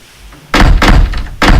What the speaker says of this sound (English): The main aircraft door is also suddenly forced open